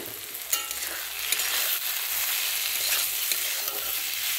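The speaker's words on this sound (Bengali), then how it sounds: "সর্ষে বাটা দিয়ে একটু ভালো করে ভেজে নেব" Water lily stems fry village-style with mustard paste, producing a steady, close sizzle broken by scraping stirring strokes and a few light knocks of the utensil.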